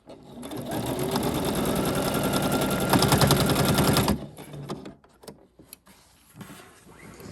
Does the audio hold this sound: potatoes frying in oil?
no